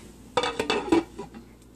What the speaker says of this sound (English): Now put the lid on